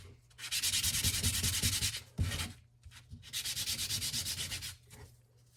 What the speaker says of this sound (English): need to sand the bottom of those just a little bit to kill the shine